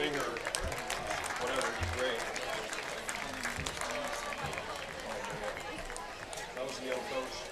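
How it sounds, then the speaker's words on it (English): An audience at a high school football game in Wahoo applauds, a dense, distant wash of clapping and crowd noise that stays steady throughout, with a voice on the public address over it. "Please give a big round of applause for JEO Investments."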